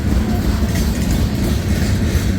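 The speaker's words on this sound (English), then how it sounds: "I can tell this train's going up a grade." A CSX freight train led by an EMD SD70MAC locomotive climbs a grade through Washington Grove, its heavy low engine rumble and rolling wagons droning loud and close without pause.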